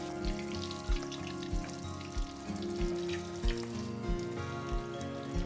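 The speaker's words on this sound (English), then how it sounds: "This temperature will fry the spring rolls quickly, without burning." Spring rolls filled with vegetables and pork deep-fry in hot oil, giving a steady crackling sizzle with popping bursts, close and continuous with no talking.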